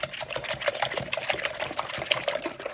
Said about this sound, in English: All right, give it a good whisk.